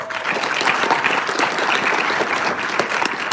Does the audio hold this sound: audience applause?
yes